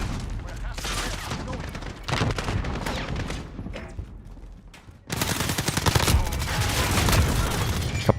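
Video game weapon fire crackles in rapid automatic bursts, loud and close, with a pause in the middle before a dense, sustained stretch of shooting returns.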